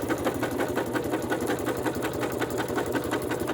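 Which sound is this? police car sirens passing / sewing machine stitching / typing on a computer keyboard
sewing machine stitching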